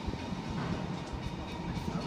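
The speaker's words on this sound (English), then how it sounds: "Approaching platform 2 at Stratford International will be your 14:47 1 Charlie 26 Southeastern service from Sandwich to London St Pancras." A Southeastern Class 395 high-speed train approaches platform 2 at Stratford International, a continuous low rumble of wheels and rolling stock with faint rhythmic clatter, steady and moderately close, without talk.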